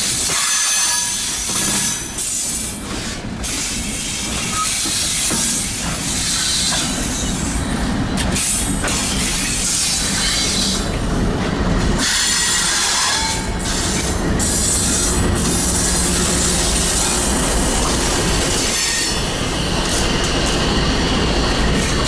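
A heavy Ferromex freight train hauled by ES44 or SD70 locomotives rolls past close by, a continuous loud rumble of wagons with rhythmic wheel clatter, metallic squeals and sporadic clanks.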